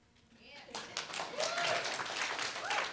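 An audience at a storytelling show breaks into clapping that builds from sparse claps to steady applause, fairly faint, with a voice talking over it.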